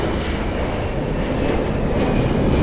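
An airplane approaches runway 02 at Lisbon Airport with a steady, loud engine roar and broadband rumble that swells slightly as it nears.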